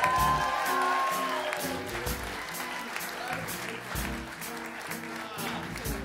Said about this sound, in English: A round of applause for Tony Falco.